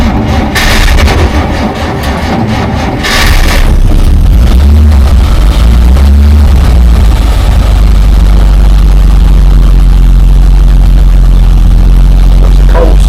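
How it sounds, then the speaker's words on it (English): An old carburettor car engine cold-starts with its choke working, with no fuel poured down the carburettor. A few rough bursts of cranking catch into a loud, steady, low rumbling idle that fills the space close by. "That's a cold start, just a regular, correct start, no fuel down the carburettor"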